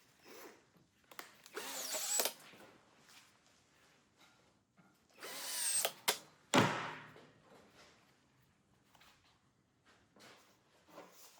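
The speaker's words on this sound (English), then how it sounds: "Sinking multiple holes through the handle section." Drill boring holes through the handle section of a Damascus steel knife blade, heard as a few short, scattered bursts of grinding and whirring with quiet gaps and clunks between them, close up and fairly faint overall.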